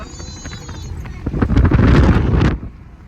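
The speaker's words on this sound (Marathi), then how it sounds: "वारा तर इतकं" Strong wind buffets the microphone in a loud roaring gust that swells and then drops away, with faint voices before it, outdoors under a cloudy sky near Khuldabad and Verul.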